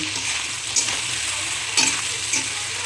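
Chili powder going into a frying fish curry masala in a pan, with a steady close sizzle and a few brief scraping stirs of the spoon over it.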